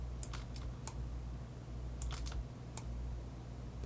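Computer keyboard keys and mouse buttons clicking while working in Autodesk Maya 2019, with a few quick clusters of sharp, light taps spread over several seconds, close by and fairly quiet over a steady low background hum.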